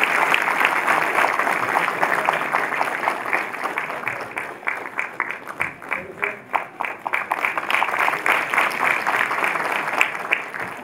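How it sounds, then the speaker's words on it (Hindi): An audience at an award ceremony for journalists at Dr Ambedkar International Centre in New Delhi applauds steadily, a dense crowd of clapping hands that briefly thins into separate claps before swelling again. "आप भी तालियों को जारी रखें।"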